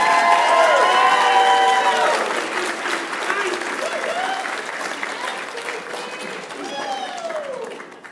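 Sustained audience applause at a university commencement ceremony welcoming a student speaker, dense and loud at first, then gradually thinning and fading, with voices and a few cheers mixed in.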